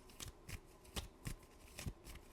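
Tarot cards are shuffled by hand close up and quietly, giving about half a dozen quick, crisp riffling bursts in a loose, fairly even rhythm.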